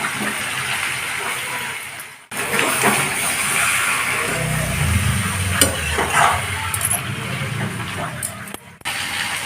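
Steady sizzling and stirring in a pot of chicken curry as potatoes are added to browned chicken, with a continuous frying hiss, a soft low rumble midway and a few clattering spoon sounds.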